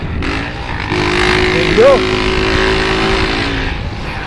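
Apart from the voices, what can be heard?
motorcycle engine revving through custom exhaust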